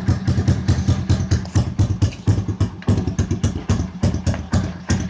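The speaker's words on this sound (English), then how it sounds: "Bike is running on choke too." A low-budget dirt bike engine runs on choke, close and loud, with a steady, rhythmic, slightly uneven putter throughout.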